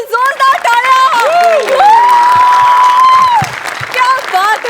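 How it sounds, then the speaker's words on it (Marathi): A studio audience at a Marathi TV comedy show breaks into loud, sustained applause, with dense clapping and cheering running throughout beneath bright musical tones. "जोरदार टाळ्या"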